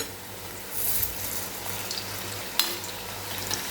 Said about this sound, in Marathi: तर आता दोन्ही साईडने व्यवस्थित आपण गोल्डन रंगावरती फ्राय करून घेऊया